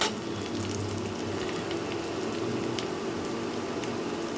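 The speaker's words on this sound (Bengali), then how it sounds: "পেঁয়াজটা আমার ভাজা হয়ে গেছে দেখুন ঠিক একটু নরম করে কিন্তু আমি পেঁয়াজটাকে ভেজেছি" Onion fries in a pan for a fish-head muri ghonto, a steady, even sizzle that holds close and continuous throughout, with no talk.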